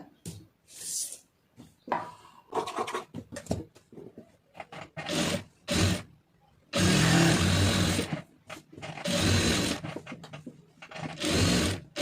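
A sewing machine stitches a lined blouse in repeated bursts, short runs at first and then longer continuous passages, close and loud with pauses between seams.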